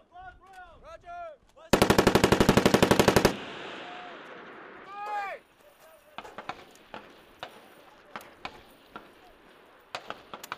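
Machine gun fire on a Marine Corps firing range: one loud sustained burst of rapid automatic shots, then scattered sharp single reports and echoes, with brief shouted voices at the start.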